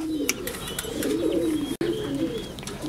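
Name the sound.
fancy pigeons cooing at a breeding farm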